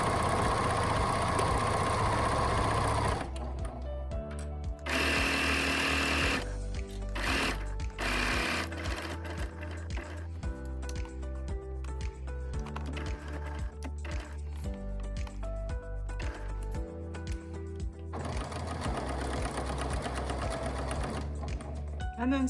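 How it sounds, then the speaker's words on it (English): Home sewing machine stitching straight lines through fabric for a pencil wrap case, running in steady bursts that slow and stop around corners with short pauses between runs, close and clear. "Slowing down near the corner, a couple stitches, lift the presser foot, turn the fabric, lower the presser foot."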